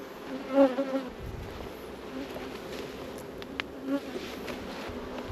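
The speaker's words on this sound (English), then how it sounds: "I'm going to judge by the fanning of these bees on the front of the queens in there" Steady close-up droning of honeybees fanning at the front of a new hive, a continuous insect hum with a few louder buzzy passes of individual bees near the start and middle.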